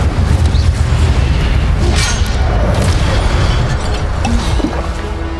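Incendio fire spell cast during combat in the Hogwarts Legacy video game, dense booming bursts and crashes layered together in a loud, continuous rush of fighting noise.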